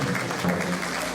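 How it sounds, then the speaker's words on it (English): Audience applause at an investment showcase in Taraba, Nigeria, greeting a traditional ruler as he walks to the stage; a short, steady burst of clapping that is fairly loud and continuous. "The applause should lead him to the stage"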